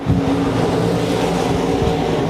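IMCA stock cars racing down the back straightaway at RPM Speedway, a loud, continuous engine roar from several cars at once, steady throughout.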